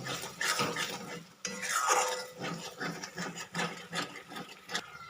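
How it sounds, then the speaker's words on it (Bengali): A spatula scrapes and stirs masala with a ground cashew and raisin paste in a pan for a vegetarian paneer dish, giving a steady run of close, rhythmic clinks and scrapes at moderate loudness. "এবার সবগুলোকে একবার খুব ভালো করে কষিয়ে নেব"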